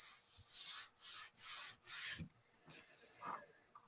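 Paper gift bag with glued seams rubbed firmly on both sides: four rhythmic, close scraping strokes, followed by quieter paper handling and light taps.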